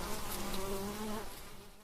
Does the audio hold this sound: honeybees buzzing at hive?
yes